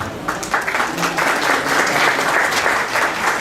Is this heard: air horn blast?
no